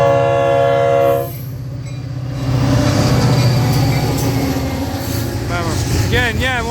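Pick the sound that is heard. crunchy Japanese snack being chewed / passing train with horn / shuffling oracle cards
passing train with horn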